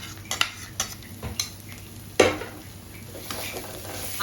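Potatoes tipped into a pan of fried spice paste and stirred, giving a few short scraping and clattering stirs with sparse sizzle underneath, one sharper knock partway through, nearby and moderately loud, no voices.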